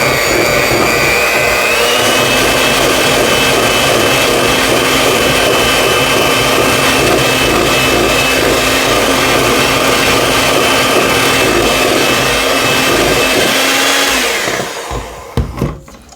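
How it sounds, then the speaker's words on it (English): Electric mixer beating orange buttercream icing flavoured with orange zest: a loud, continuous motor whir with a slight pitch shift early on, running steadily before winding down and stopping near the end. "Now I'm going to go ahead and beat this up a little bit."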